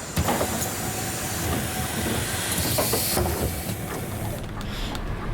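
Pneumatic hiss of bus doors opening on a Berlin route in the video game The Bus, a loud steady rush of air with clunks and rattles, fading toward the end, heard alone with no talk.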